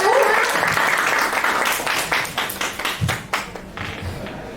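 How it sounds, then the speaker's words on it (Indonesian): A seminar audience claps loudly, the applause thinning into scattered, distinct claps that fade toward the end. "Boleh aku dengar tepuk tangannya?"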